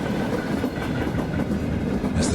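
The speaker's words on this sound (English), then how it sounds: "the train was hurtling toward a tunnel" A train hurtles along the tracks toward a tunnel, a steady, loud, continuous rumble with rhythmic clatter throughout and no voices.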